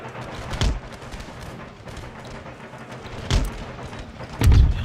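Artillery booms in a large Empire: Total War battle, three heavy low thuds spaced a few seconds apart over a steady wash of distant musket and battle noise.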